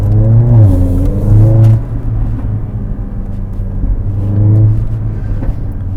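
A loud Mercedes A45 AMG engine revs repeatedly in sport mode, rising and falling in pitch with a deep throaty rumble, close up and with no voices.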